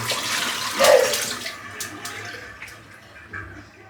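Running water from a tap splashes over a shaving brush as it's rinsed, a close, brief gush that swells in the first second and then settles into a softer, fading trickle.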